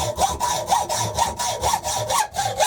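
Steel screws from a tooling plate kit, 75 mm long, being shortened by about 20 mm with a hand saw, giving a steady rhythmic rasping of back-and-forth strokes, loud and close with no talk.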